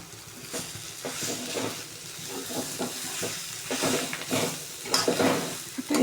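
Squeezed wild greens with grated fresh coconut being sautéed in a pan, with a soft continuous sizzle and repeated scraping stirs of a spatula close up, no talking.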